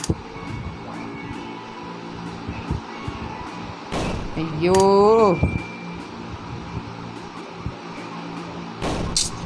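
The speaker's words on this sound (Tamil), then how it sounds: "நாட்டு வெடி, நாட்டு குண்டு வெடி." A bomb explodes in the platform video game Level Devil, heard as sharp noisy bursts, one in the middle and another near the end, with someone talking loudly between them over steady game sound.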